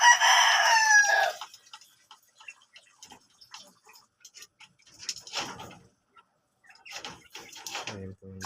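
Sweater Boston gamefowl rooster crows loudly and close at the start, followed by scattered clucks, pecking ticks and quieter fowl calls in a farm yard.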